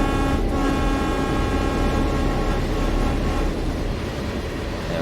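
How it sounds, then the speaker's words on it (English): Santa Fe F7 diesel locomotive on Cajon Pass in Train Sim World 3 rolling past, a steady loud rumble with sustained tonal hum and wheel noise, easing slightly as it moves away. "Maybe not watch the whole train go past, but some of it"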